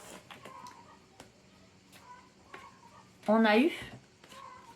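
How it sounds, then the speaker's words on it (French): Hens in a small backyard flock break into a brief, loud burst of squawking clucks partway through, rising over a quieter background while someone speaks in French before and after. "Veuillez excuser les poules qui nous font un concerto"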